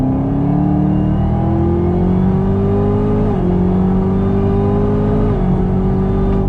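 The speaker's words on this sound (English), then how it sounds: "The whine of the supercharger is just glorious." Supercharged 2019 Chevrolet Camaro ZL1 with a 10-speed automatic accelerating from about 35 mph, a loud steady engine drone with a rising supercharger whine, pitch stepping at gear shifts, no talk.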